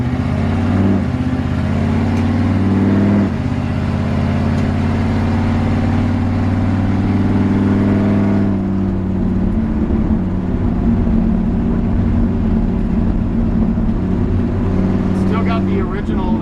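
A 1951 Ford F-1 truck on the move, its engine a steady low rumbling drone with a shift in pitch partway through, heard from inside the cab, with someone talking over it.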